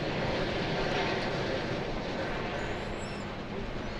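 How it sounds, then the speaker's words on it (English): An American Airlines Airbus A321 jet arriving from Seattle passes at DFW Airport, a steady loud broadband engine roar holding throughout with faint higher whine near the end. "Here comes American Flight 1667. Where is it coming from? Seattle. It's an Airbus A321."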